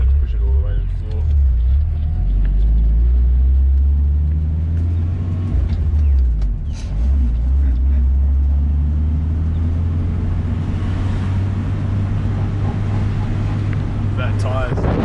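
An abandoned show car restored and turbocharged, dubbed the Nugget, rumbles loudly under hard acceleration with a deep, steady engine drone and tire noise, while someone talks over it inside the cabin.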